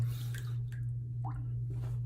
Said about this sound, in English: Very nice, creamy lather.